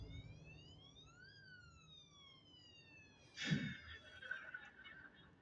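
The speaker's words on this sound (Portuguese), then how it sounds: "tocou a sirene agora, alguém achou alguma coisa" Siren sounding outside, a faint wailing tone rising and falling a few times in the distance, followed by a brief burst of nearby voice-like noise.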